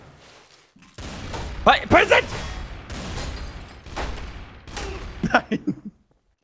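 Gunfire in the game Trouble in Terrorist Town, loud bursts of rapid shots in two clusters, the second a quick run of four or five cracks, mixed with excited talking between players.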